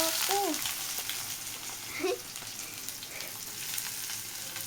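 Onions dropped into hot mustard oil in a pan give a steady fry, with a few brief stirring scrapes and faint voices in the background.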